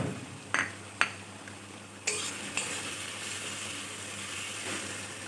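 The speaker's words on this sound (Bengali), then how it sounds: "এবার আমি কাজু আর কিশমিশটা দিয়ে দিচ্ছি।" Cashews and raisins tipped into spice masala frying in oil, a few sharp clinks of a spoon against the pan followed by a steady close sizzle as they are stirred, no voices.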